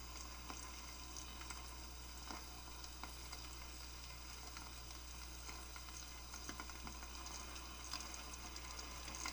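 Eggs frying on a tiny electric skillet, a steady soft sizzle with faint crackles and spits, close and quiet, with no talking.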